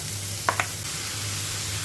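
Cabbage with tomato paste and red paprika fries in a pan, giving a steady close sizzle with two quick clinks of a utensil stirring partway through, no voices.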